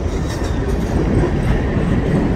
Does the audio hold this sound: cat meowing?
no